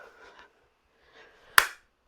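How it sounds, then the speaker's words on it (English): A single sharp, loud hand clap rings out near the end of a Parkinson's Moving Big exercise session, following a stretch of faint background murmur. "Then other side with a big clap"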